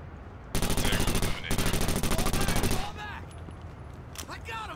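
Loud full-auto rifle fire in the tactical shooter Takedown Red Sabre, two rapid sustained bursts with a short break between them, then quieter game sounds afterward.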